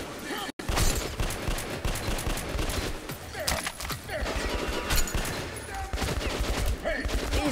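Enemy gunfire in the video game Metro: Last Light, a dense, loud, continuous fusillade of rapid shots and automatic bursts, with a voice speaking over the shooting.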